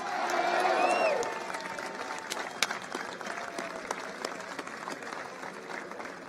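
Crowd at a Vice President Pence political rally in Columbus, Ohio bursting into applause and a few cheers, loudest at first and then settling into steady clapping that continues throughout.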